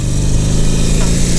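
Motorcycle engine gaining a little speed during a tight turn, a loud close steady mid-pitched engine drone with a faint rise at the very end.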